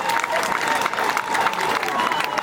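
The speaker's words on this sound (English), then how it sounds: "give Wembo a very big hand clap" Rally crowd at a National Unity Platform political gathering clapping and cheering for a speaker, a dense steady wash of applause with voices mixed in throughout.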